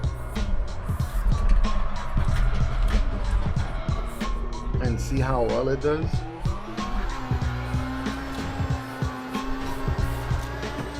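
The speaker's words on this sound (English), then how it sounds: "want to try the Corvette with the R13 engine" Corvette fitted with an R13 engine drifting in CarX Drift Racing 2, engine droning and shifting with tire squeal and skid bursts, heard under someone talking throughout.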